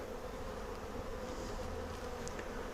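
Bees buzzing around a Flow Hive Classic beehive, a steady dense hum of many insects close by, continuous and fairly faint with no voices.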